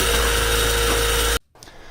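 A DeWalt XR DCF887 cordless impact driver whirs at high speed on its third speed setting with a loud, steady motor drone, then cuts off abruptly and spins down to near silence.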